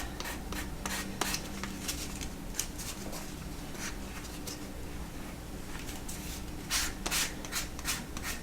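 Sandpaper rubs across a piece of leather with light pressure, making a continuous close-up scratchy hiss punctuated by brief, brighter strokes, with no voices.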